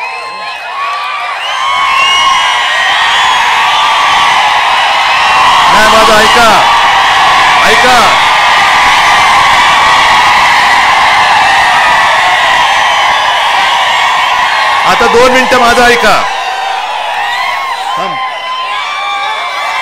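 A large crowd cheers, whoops and shouts at an election rally in Dharashiv, a dense roar rising in swells throughout, while someone speaks over it on a loudspeaker.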